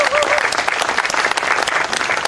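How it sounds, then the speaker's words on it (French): Loud, sustained applause from an audience greeting the mayor of Cocody at a community reunion event, steady clapping filling the whole moment with a dense crowd texture. "le maire de Cocody, M. Jean-Marc Yassé, que je vous demande d'applaudir."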